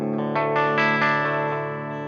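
Electric guitar fitted with fresh new strings, played through an amplifier: a few bright chords struck in quick succession, each ringing out and fading, with an effects-laden, slightly distorted tone and no talking.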